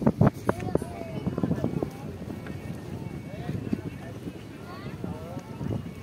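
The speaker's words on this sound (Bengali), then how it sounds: "এই যে নৌকা চলে আসছে" A boat moves through floodwater with a steady low rumble and wind noise, while people talk nearby throughout.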